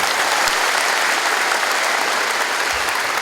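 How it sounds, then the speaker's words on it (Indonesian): An audience applauds a police officer at an Indonesian ceremony handing out ID cards to street vendors, with dense, steady clapping that fills the whole stretch at strong, even volume. "Tepuk tangan untuk Pak Masudi"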